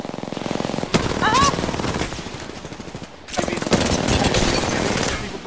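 Bursts of rapid automatic gunfire from an Apex Legends match rattle in two long volleys separated by a brief pause, dense and punchy, with players talking over the shooting.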